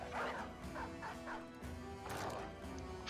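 In the video game BB the Blazing Desert, a dog barks several times in short, fairly quiet bursts, some sounding like yips, over a low droning game background.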